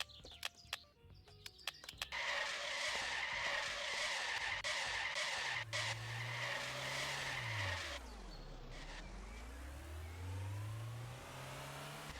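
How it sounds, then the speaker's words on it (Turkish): A car in Trader Life Simulator 2 skids and slides with a long, loud tire squeal, then its engine pitch dips and rises again as it recovers, with no voices over it. "Lan nereye gidiyorsun araba? Kaydı gitti la."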